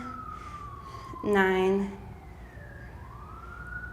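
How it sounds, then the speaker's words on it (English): A siren from an emergency vehicle sweeps past outdoors, rising in a loud wailing burst before trailing off into the distance, while a voice counts during a Pilates workout. "another siren"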